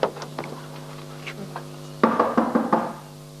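Knocking on a door in a home drama scene: a few light taps at first over a steady hum, then a louder burst of several quick, firm knocks in a row, with no voices.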